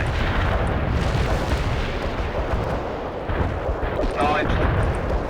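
Artillery shells firing in the video game World in Conflict, a continuous loud rumble of booms and blasts with layered battle noise, sustained across the whole stretch.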